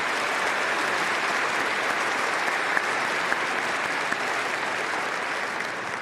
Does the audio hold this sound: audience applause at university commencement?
yes